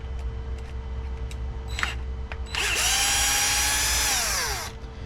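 A power drill whines loudly and steadily for about two seconds, backing screws out of an Arrma Limitless V2 RC car, after a brief earlier burst and some faint clicks of handling.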